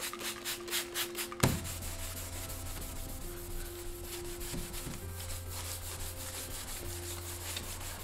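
Tool rubbed back and forth over lubricated car paint on a VW dune buggy to lift contamination, a faint scratchy rubbing with a sharp knock early on and a low hum underneath.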